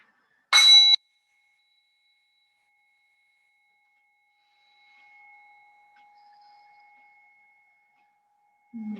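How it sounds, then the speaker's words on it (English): A bell rings once near the start of a quiet yoga session, marking the beginning of a rest. Its clear tone lingers faintly for several seconds in near silence. "Sound of the bell will take us in for a minute of rest."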